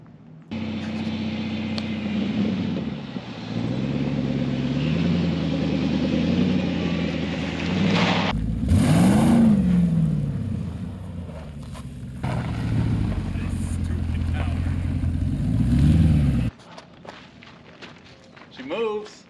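A 6.4L Hemi V8 in a wrecked Jeep SRT8 idles and revs as it drives off, a steady rumbling engine with pitch rises and a surge midway, partly under talking voices.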